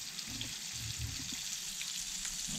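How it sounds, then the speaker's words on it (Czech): Soft, steady sizzle of white fish frying in a pan over high heat, quiet and close, with a faint crackle near the end. "A už se nám to krásně smaží."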